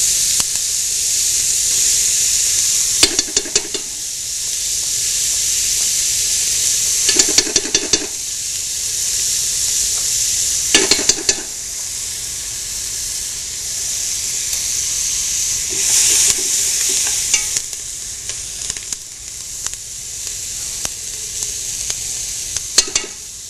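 Acorn squash flesh sizzles steadily in sesame oil in a pot, with a loud continuous frying hiss and periodic scraping from stirring layered on top.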